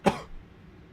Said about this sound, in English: this cough. Where's this come from?